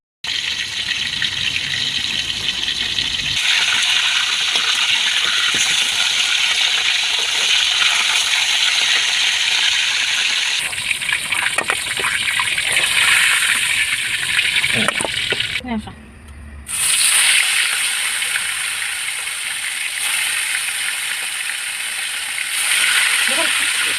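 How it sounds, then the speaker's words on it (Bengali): Chicken pieces for biryani frying in hot oil, a steady, loud, close sizzling hiss that runs continuously, with a brief dip and stir partway through before the sizzle resumes. "এখন আমি বিরিয়ানির চিকেনগুলো হালকা করে ভেজে নিব"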